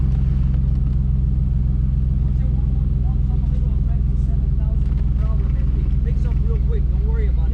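A vintage car engine idles while warming up at a Miami car compound, a loud, steady low rumble with a fast even pulse, and voices talk faintly over it.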